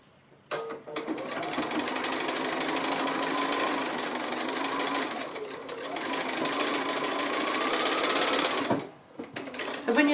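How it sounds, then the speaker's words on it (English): A sewing machine stitches small quilt pieces in a steady, fast, even whir for most of the span. It stops briefly near the end and then starts again, with no one talking over it. "sew it with that on the top side, so that you can actually see where you're sewing through to get that point as near as possible"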